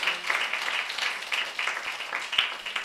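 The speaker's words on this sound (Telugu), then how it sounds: "కొట్టండి మా క్లాప్స్ గట్టిగా కొర్నేలు అన్నకే" Audience applause at a gathering, a steady patter of many hands clapping for about three seconds, moderately near and fairly even, with no talking over it.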